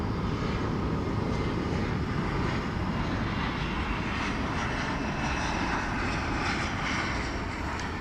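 A departing airliner at DFW Airport, a 1993 aircraft bound for the Twin Cities, roars with a steady, loud jet engine drone that holds constant throughout, broad and rumbling with no voices.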